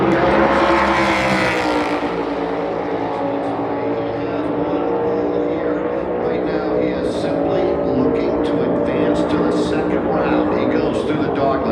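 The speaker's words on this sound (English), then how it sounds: "Byron is on the racetrack right now, the predominantly white Chevrolet Camaro with the Exalta colors on board" A predominantly white Chevrolet Camaro NASCAR Cup race car laps Phoenix Raceway during qualifying, its engine a loud sustained roar with a slowly shifting pitch that carries all the way through, over a steady broadband track rumble.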